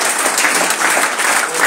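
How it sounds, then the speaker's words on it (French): Audience applause at a French-speaking gathering honoring people on stage: dense, steady clapping from a crowd that fills the whole moment with no pauses. "Acclamez très fort pour eux."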